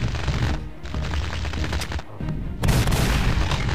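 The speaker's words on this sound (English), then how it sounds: "And now I have a chain gun to work with." Chain gun in the video game Doom firing rapid sustained bursts, loud and close, with a brief pause midway before the dense rattling resumes even louder.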